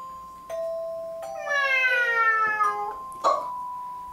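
A drawn-out, rising and falling meow with a tonal ringing quality, preceded by a brief tone and followed by a short sharp sound.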